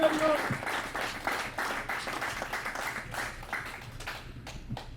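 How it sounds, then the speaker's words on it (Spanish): A church congregation claps together during a bilingual sermon, a dense burst that thins and fades toward the end, with bits of voice mixed in. "We can give a clap offering to the Lord."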